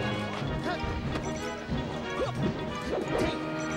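A forward smash in Super Smash Bros. Melee, with sharp impact cracks and whacks among the game's busy effects and character cries, loud and close, while a voice talks over the action.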